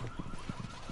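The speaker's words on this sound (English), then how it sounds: "Fuck this car alarm, dude." A car alarm in the video game Rainbow Six Siege blares in a steady wailing, pulsing pattern, with repeated low bursts under a continuous tone, close and moderately loud.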